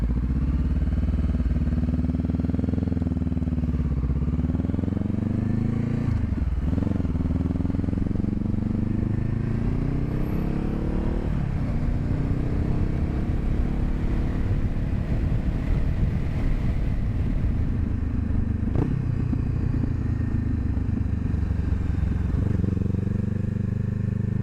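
A Honda CB500F motorcycle on the road, its engine droning steadily with rising and falling revs as gears shift, mixed with heavy wind rush across the microphone, continuous and loud with no talk.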